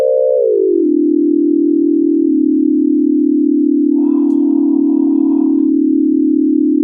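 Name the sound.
synthesized infinite riser sound effect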